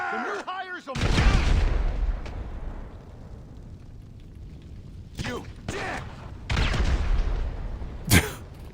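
Grenade explosions and gunfire in GTA 5 Online on New Year's Eve. A voice speaks briefly, then a heavy blast rumbles, followed by several sharp, loud bursts and booms spaced a few seconds apart, ending in a single crack.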